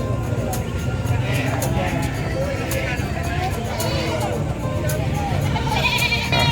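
Goats bleat repeatedly in wavering, quavering cries amid the crowd noise of a busy San Carlos livestock market, with people talking and a general hubbub running underneath throughout.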